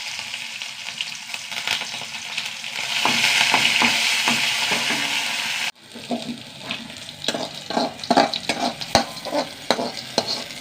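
Curry leaves hit hot coconut oil with shallots, dried chilli and mustard seeds, bursting into a loud hissing sizzle that swells and then settles into crackling spatter with stirring clatter, close and continuous.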